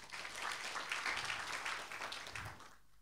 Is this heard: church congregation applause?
yes